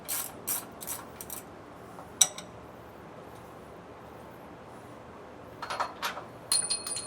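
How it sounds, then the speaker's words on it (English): A ratchet with a 21mm socket clicks in short bursts while bolts are removed for a rear anti-sway bar install on a 2019 Holiday Rambler, with quiet gaps between the bursts and sharp metallic ticks. "I am using a 21mm socket to get these bolts out."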